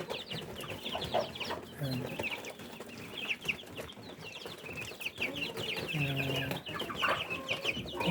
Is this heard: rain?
no